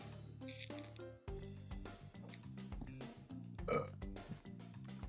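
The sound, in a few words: burp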